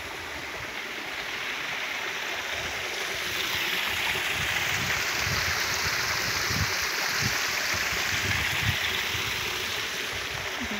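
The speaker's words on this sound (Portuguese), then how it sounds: "E aqui vou mostrar para vocês a cachoeira que tem ali." A small waterfall in a rocky creek, with steady broadband rushing and gurgling water close by, continuous and fairly loud throughout with no talking.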